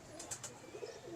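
A prized domestic pigeon gives a short, soft coo with a couple of quick throaty pulses, heard close and alone at low volume.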